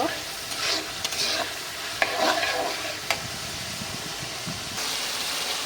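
Spice paste frying in oil for a fish curry as the masala releases its oil, a steady close sizzle broken by a few sharp stirring knocks and scrapes, with no talk.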